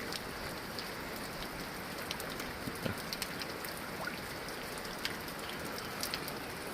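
Light first monsoon rain pattering steadily in Devgad, Konkan, with scattered soft drops ticking through a constant gentle hiss.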